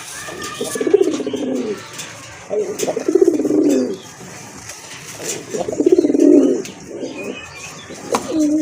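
Pigeons coo close by in a series of low, rolling calls, about four bursts spaced a second or two apart, with faint rustling and chirps between them.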